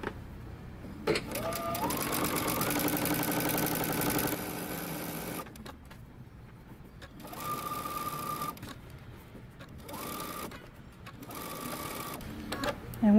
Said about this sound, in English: We're going to sew using 5/8 of an inch seam allowance, past our double notches, through the crotch, and we're going to stop at the dot and backstitch.